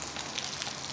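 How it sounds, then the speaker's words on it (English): Steady rain falling, a constant soft broadband hiss of drops at low level, unbroken for the whole stretch with no voices. "it's raining."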